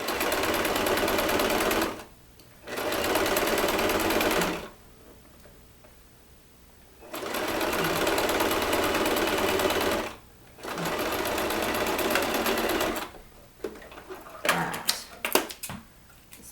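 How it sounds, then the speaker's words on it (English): Sewing machine stitching a seam on a Christmas stocking with lace, running in four steady whirring bursts separated by short pauses, followed by a few light clicks and handling taps near the end. "Okay, so sewing that together"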